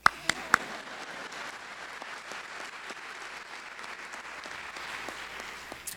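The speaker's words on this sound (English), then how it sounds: "Y'all clap." Audience clapping at a university journalism graduation ceremony, fairly soft and distant, a steady patter from a hall full of people after a few sharp nearby claps at the start.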